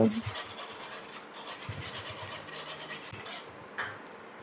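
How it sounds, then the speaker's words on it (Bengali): Boiled dal being mashed with a wooden masher in a pot, giving rhythmic rubbing and scraping strokes close by with a few soft knocks against the vessel. "একটা কাটা দিয়ে আমি ডালটা ভালো করে ঘুটে নেব"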